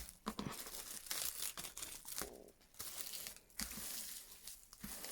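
A sheet, likely paper or fabric, is folded in two, producing faint rustling, crinkling and crumpling sounds in irregular bursts, with no talking.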